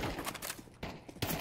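Rapid bursts of gunfire in Counter-Strike 2, several sharp clustered shots within a second and a half, close and punchy, with no speech.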